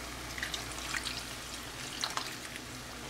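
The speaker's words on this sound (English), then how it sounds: "And then I follow up with a similar amount of just water." Water pours steadily into a cooking pot of diced tomatoes, a continuous close splashing trickle with faint drips and no talking.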